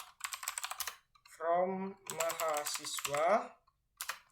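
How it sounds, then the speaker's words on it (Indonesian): Computer keyboard typing, short fast clicks at close range, mostly heard in brief gaps while someone speaks in Indonesian through much of the clip. "Setelah kita mengetik seperti ini"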